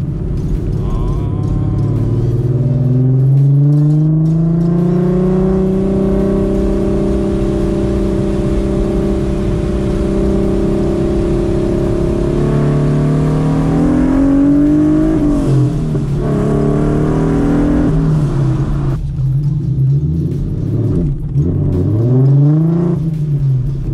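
Boosted manual Ford Mustang accelerating hard after a gear change, a loud close engine roar rising steadily in pitch, then dropping and revving again near the end.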